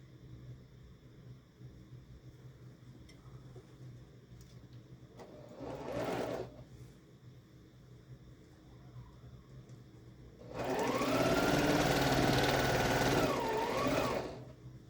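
A sewing machine stitching quilt block pieces, with a short burst of stitching followed later by a longer, steady run, and quiet room tone between the runs.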